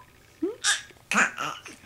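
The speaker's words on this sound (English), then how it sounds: "was that a burp?" A baby's short burp-like hiccup sound, followed by soft babbling vocal noises, close and fairly quiet.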